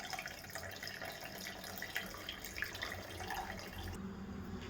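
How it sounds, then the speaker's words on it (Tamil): Soft, quiet pouring and splashing of coconut milk into a pot, low and close, with no voices. "இப்போ நான் பால் வந்து ஊற்றிக்கிறேன்"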